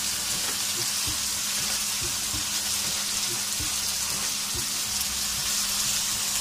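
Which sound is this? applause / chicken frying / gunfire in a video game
chicken frying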